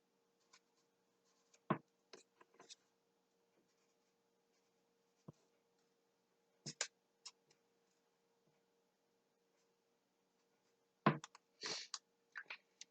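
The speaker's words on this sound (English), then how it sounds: "So on each one, write something that you love about yourself." Pen writing on small paper slips for a self-love jar: scattered short scratchy strokes in bursts separated by quiet pauses, close and faint in a silent room.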